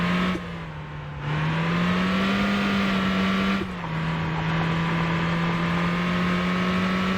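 A Mini being driven in the Motor Town driving game, its engine holding a steady, droning pitch with a brief dip from a gear change or lift, loud and continuous with no talking.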